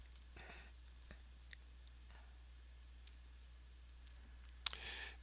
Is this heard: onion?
no